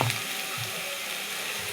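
Chopped beans, potato and eggplant fry in a hot pan, giving a steady, close sizzle with a soft crackling hiss that holds evenly throughout.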